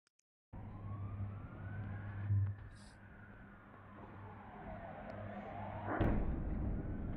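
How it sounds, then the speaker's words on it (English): An ambulance siren wails in a street during a bombing, rising and falling in long sweeps, fairly distant and faint, with a sharper burst near the end. "And the ambulance running in the street like crazy"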